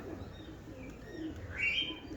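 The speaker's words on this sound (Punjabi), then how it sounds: "ਕਾਲੇ ਕਬੂਤਰ ਆ ਭਰਾ ਜੀ" Black pigeons give a faint, brief coo, soft and low against quiet background noise.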